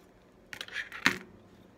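Scissors snip a dovetail into the end of a length of ribbon, a quiet close cut with a brief rustle leading into one sharp, clear snip, alone in a still room.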